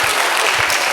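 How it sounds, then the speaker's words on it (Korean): Congregation applause during a Sunday evening church service, a dense steady wash of clapping lasting about a second, close and fairly loud with no talk over it. "박수."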